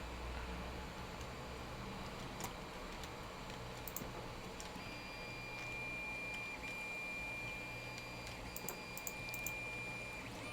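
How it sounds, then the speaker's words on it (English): Noisy home printer running in a quiet room, a faint steady mechanical whir with soft ticking and occasional small clicks, low and continuous. "my printer's still being noisy"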